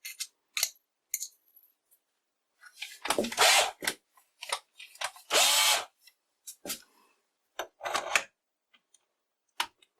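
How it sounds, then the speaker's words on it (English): A cordless drill drives wood screws into nylon in short separate bursts, two longer whirring runs among brief clicks and taps, close and loud against silence. "I'm going to use these wood screws to fix the pieces together"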